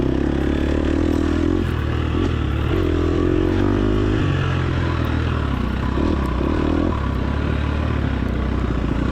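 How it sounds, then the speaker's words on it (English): A motorcycle engine in the TORCS racing video game drones loudly and continuously, its pitch rising and falling as the bike revs out of corners and shifts gears, with a faint clatter underneath and no voices. "you can hear the bike rev up when I come out of a corner"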